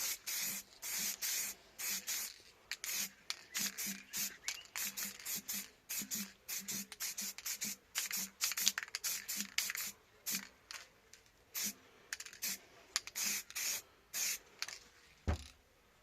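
Short repeated bursts of spray paint lay a coat on a Suzuki FZ50 motorcycle part, hissing close and fairly loud in quick on-off pulses throughout.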